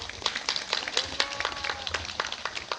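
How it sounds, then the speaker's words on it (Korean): A small audience at a press conference opposing an incinerator expansion gives a steady patter of applause, moderately distant and even-paced throughout. "박수 한번 주십시오"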